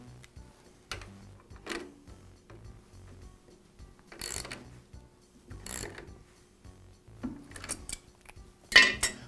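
Metal clicks and ratcheting scrapes from pliers and a wrench tightening a nut on a Jet drill press during a coil spring repair, coming as a few separate short bursts with quiet gaps, close and moderately soft.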